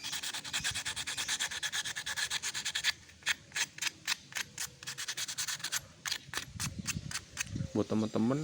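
Sandpaper rubbed against a Vespa carburetor or spark plug in rhythmic strokes, first a fast steady scrubbing, then slower separate passes, close and fairly quiet.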